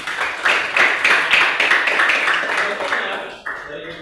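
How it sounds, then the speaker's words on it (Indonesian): Classroom applause from a group of students, a few seconds of quick, fairly close clapping that thins out and stops near the end. "Sekali lagi tepuk tangan buat kita dulu."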